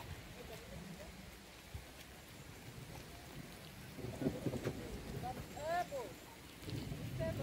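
Rain falls in the hills of Darjeeling, a steady wash of noise with faint distant rumbles, while voices talk intermittently over it, growing louder toward the end.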